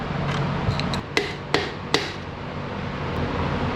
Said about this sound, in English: We will get a little bit of oil and our compressor on here, and then we'll throw it into the block.